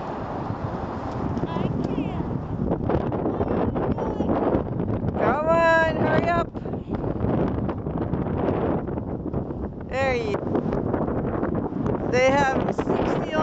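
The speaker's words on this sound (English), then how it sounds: "They have 60 miles an hour wind today." Strong gusting wind of around 60 miles an hour drives flying snow, roaring and buffeting the microphone steadily throughout, with a voice and other people talking over it.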